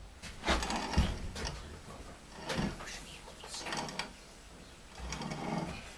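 A Country Living hand grain mill grinds wheat in repeated uneven bursts of gritty crunching and scraping, fairly quiet and close, with short pauses between turns and no talking.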